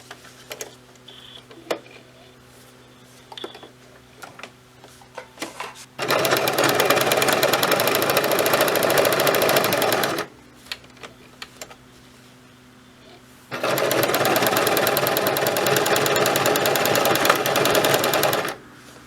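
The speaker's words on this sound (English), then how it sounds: "So now I want to show you what it's like just to sew the fabric and to be able to turn it" A sewing machine stitches waterproof polyurethane laminate (PUL) fabric in two long steady runs of rapid needle chatter, separated by a quiet pause with faint clicks as the fabric is turned.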